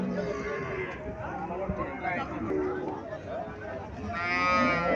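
Frisian-type cows and calves at a cattle market in Cumilla, with a few soft moos amid a busy crowd, and people talking throughout.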